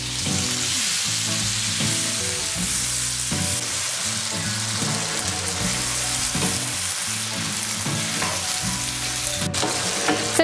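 Fresh tomatoes and garlic fry in hot oil in a pan, making a dense, steady sizzle that stays close and loud throughout, with soft stirring and clinking under it.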